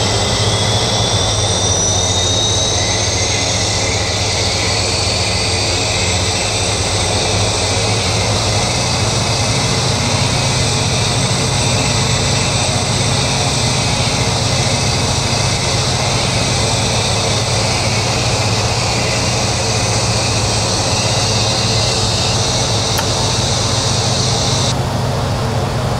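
Jetstream 41 turboprop engine 2 spooling up during start in the PMDG flight simulator, a loud continuous roar with whining high tones that climb and settle, steady and close throughout without talk.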